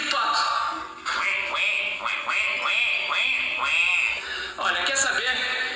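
A duck quacks repeatedly in quick nasal bursts, played back from a small video, mixed with cartoonish voices talking over and around the calls.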